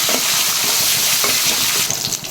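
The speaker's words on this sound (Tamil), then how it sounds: "கருவேப்பிலை எவ்வளோ பெரிய பாத்திரம் வச்சாலும் வெளியே தெரிச்சு தான் விடுவேன்" Curry leaves spluttering in hot oil while tempering, a loud, dense crackling sizzle close by that runs steadily throughout with sharp pops, and no voices.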